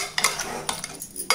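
A spoon stirs raw chicken with turmeric and salt in a metal pot, making several sharp scraping clinks at an uneven pace, close by with no talking.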